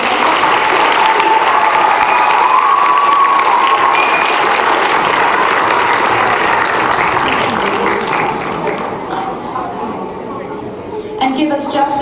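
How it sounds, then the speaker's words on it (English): Loud applause from a school audience after a middle school winter concert performance, sustained clapping that fades toward the end, followed by a few scattered claps and some faint movement noise. "You can give them one more round of applause."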